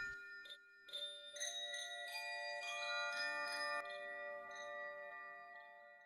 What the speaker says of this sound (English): Just then, the chime swayed, emitting soft, melodious sounds.